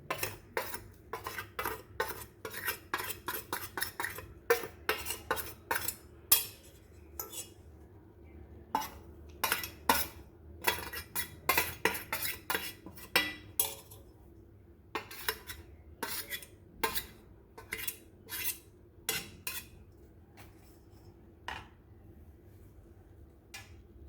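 A spoon clinks and scrapes against a bowl in quick irregular bursts while spices are mixed into a poha and potato mixture, close and without talk.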